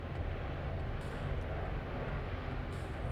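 Steady broadband drone of a fixed-wing aircraft engine throttling back in Frontier Pilot Simulator, a continuous, even roar with no speech over it.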